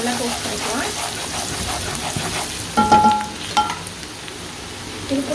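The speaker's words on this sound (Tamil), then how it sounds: "இப்போ நம்ம இதில் ஜிஞ்சரும் அந்த கார்லிக்கையும் போட்டுடலாம். நல்லா டோஸ்ட் பண்ணிடலாம்." Ginger and garlic toast in oil in a pan for chicken fried rice, giving a continuous moderate sizzle with a few louder stirring clatters midway.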